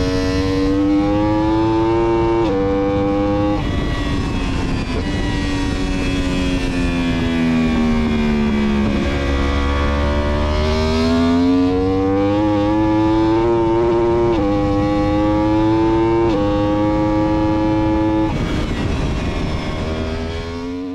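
A Yamaha R1 converted from road bike to race bike screams around a race track, its loud, continuous engine note climbing and dropping through gear changes and corners, close up and alone.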